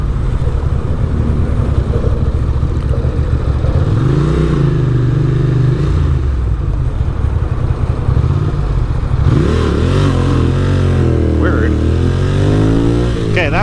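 Motorcycle riding along a West Seattle beach road toward Alki Beach, engine droning steadily with a couple of rising rev swells where a slipping clutch lets the pitch climb unevenly.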